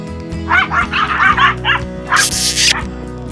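Several dogs bark and yip excitedly at close range in a rural setting, repeated sharp barks in bursts with some whimpering, over a low steady background hum.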